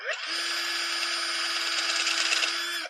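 A carbide tool cuts a stabilized pen blank spinning on a lathe: a continuous, loud, even shaving hiss with a steady hum beneath, lasting a few seconds and stopping abruptly.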